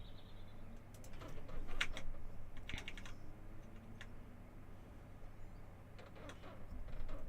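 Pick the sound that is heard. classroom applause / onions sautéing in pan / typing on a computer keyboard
typing on a computer keyboard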